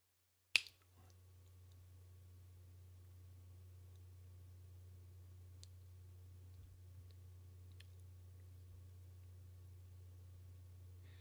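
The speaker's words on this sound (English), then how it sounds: "So I'm gonna turn on my audio and snap my fingers here." A single sharp finger snap rings out close by near the start, followed by a long quiet stretch of low steady hum with a few faint clicks.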